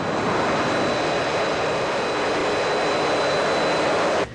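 An F-35 fighter jet engine roars at full power, a loud, steady, broadband jet rumble and hiss with a faint high whine, cutting off abruptly at the end.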